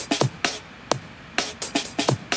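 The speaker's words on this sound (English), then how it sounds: "This is a drum and bass break that sounds like this." A fast, syncopated breakbeat of punchy kicks and crisp snares, drum and bass style, played loud and alone with no voices.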